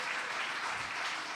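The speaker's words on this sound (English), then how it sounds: "Big round of applause for you guys there." Applause from a StoryBookFarm social gathering, a steady, dense wash of many hands clapping at moderate distance, quite soft throughout and uninterrupted for a little over a second.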